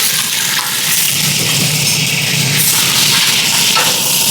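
Chicken drops into a pan of browning onions and sizzles loudly and steadily, a dense, hissing fry that runs unbroken throughout.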